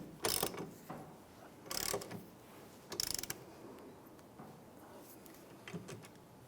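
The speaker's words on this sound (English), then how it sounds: "Let's go ahead and put our wrench on that and tighten that up." Wrench tightening a bolt on the rear shock of a 2001-2005 Honda Civic: three brief ratcheting clicks followed by a few softer ones, faint and close, with no talking.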